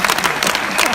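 A live audience at a Hindi comic poetry show claps steadily, a dense, even wash of applause filling the whole moment at close range with no talk over it.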